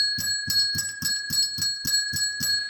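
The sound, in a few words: ring-for-service bell being rung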